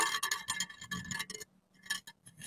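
Segments of a carbon fishing rod, nine sections plus a tip, clink and tap against each other in a quick irregular series of light, bright knocks with brief pauses, close and fairly quiet.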